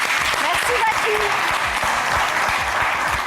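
A studio audience applauds contestant number 3 on a talent show, a steady dense wash of clapping with a voice speaking over it throughout.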